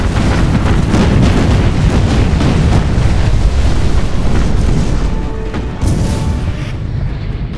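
Continuous deep booming rumble of ship gun batteries firing in Battle Stations Pacific, loud and dense with explosions blending into a roaring wash that eases slightly toward the end.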